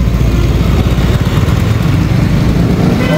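Yamaha R15 V4 motorcycle cruising on a highway at night, a steady loud engine and road drone running continuously without breaks or speech.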